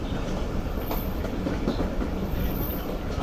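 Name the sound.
train running on a curve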